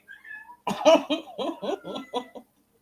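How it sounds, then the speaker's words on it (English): A house cat gives a quick series of vocal calls, about six short close meows and chirps in a row with a rising cry at the start, loud and alone. "So my cat"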